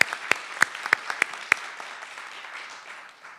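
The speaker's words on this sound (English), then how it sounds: "Give him a nice round of applause." At a health equity seminar, an audience thanks a panel moderator with sparse clapping, a few distinct sharp claps over softer patter that fades out.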